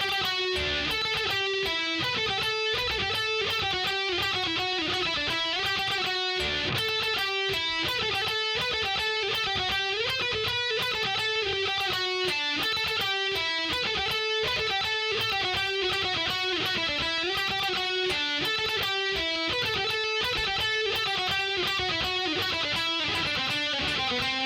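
A song played on electric guitar at a slow tempo, a dense, steady run of picked notes and harmonies that fills the whole stretch with no talking.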